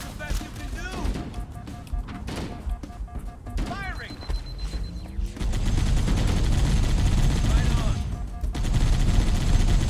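In Halo Combat Evolved, the Warthog's mounted turret fires rapid bursts of gunfire amid game combat effects and engine noise, getting louder and more continuous in the second half, with a person talking over it.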